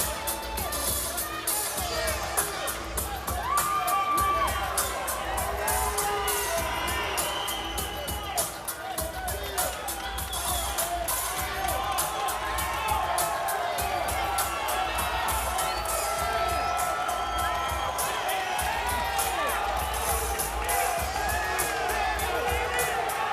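A raucous crowd packing half of the Grand Garden Arena for a boxing weigh-in keeps up continuous, loud cheering, whoops and shouting for the whole stretch, with babble in the mix.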